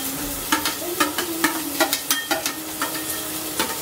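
Onion and garlic fry in hot oil for a carbonara, giving a steady close sizzle with repeated scraping stirs of a utensil against the pan in an uneven rhythm.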